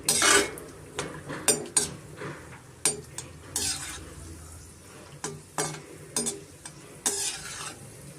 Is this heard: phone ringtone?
no